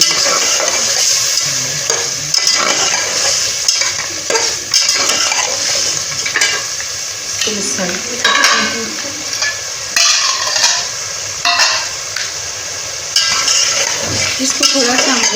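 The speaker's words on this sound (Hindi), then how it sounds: "अब मैं इसको अच्छी तरह से भून लूँगी।" Potatoes fry in masala in a pan for a cauliflower dish, stirred hard with a spoon. A loud, continuous sizzle runs under repeated scraping and clinking of metal against the pan, with no talking.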